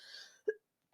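A single short, muffled cough from a man, close and soft, standing alone after a brief faint tone, with a louder sound cut off at the end.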